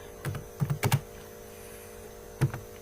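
A few scattered keystrokes on a computer keyboard while coding in Turbo Pascal, short clusters of close, soft clicks separated by pauses over a faint steady electrical hum, with no speech.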